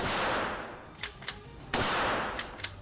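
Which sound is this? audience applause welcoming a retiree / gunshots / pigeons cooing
gunshots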